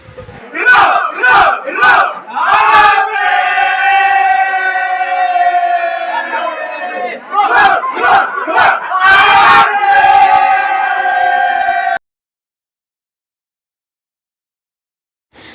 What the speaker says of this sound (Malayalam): അതിനുശേഷം തകർപ്പൻ ആർപ്പുവിളിയായിരുന്നു, മത്സരമായിരുന്നു ഞങ്ങൾ